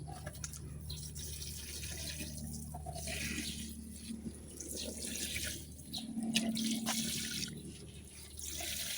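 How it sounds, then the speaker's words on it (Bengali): Water pouring and splashing while plants are watered on a rooftop garden, including a lemon tree, a steady close gush with varying flow and no talking. "বন্ধুরা চলো এখন আমরা লেবু গাছে জল দেই।"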